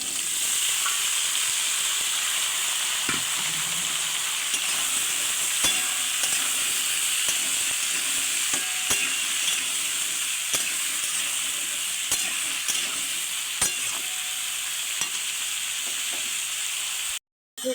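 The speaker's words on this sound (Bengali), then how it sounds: "পেঁয়াজটা ভালো করে ভাজা হয়ে গেছে, এবার দিয়ে দিচ্ছি কেটে রাখা আলু আর লাউ" Cubed potatoes and bottle gourd sizzle in a pan of fried onions, a continuous bright frying hiss with periodic spatula scrapes and taps as they are stirred.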